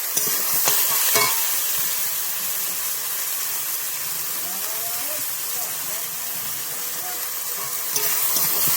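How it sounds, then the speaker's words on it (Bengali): Spices with salt sauté in a pan, a broad steady sizzle with occasional stirring clatter, close, with a voice speaking faintly over part of it. "স্বাদ মতন লবণ দিয়ে একটু ভালো করে কষাবো"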